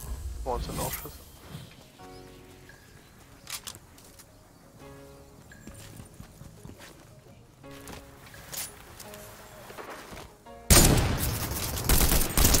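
Fortnite gunfire comes from a duo match, with scattered shots early on and a loud, dense burst of rapid fire near the end, while players talk over the game audio.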